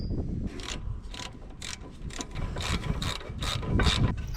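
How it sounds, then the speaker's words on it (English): Breaker bar with a makeshift extender working on stubborn 21mm socket bolts of a Land Rover's brakes, giving a run of repeated ratcheting, clicking mechanical strokes at a steady rhythm, close and fairly loud over low rumble. "I'm happy to have my breaker bar and makeshift extender and put that to some more use on these"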